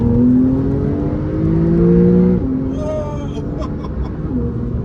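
A Porsche 911 GTS engine rises in a loud, close acceleration with a gear change partway through, the pitch climbing again afterward under faint high whines.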